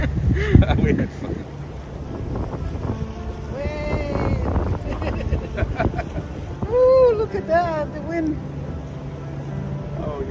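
Wind gusts buffet a small boat out on Webster Lake in Massachusetts, a rough rushing roar against the microphone, while people chat and exclaim nearby.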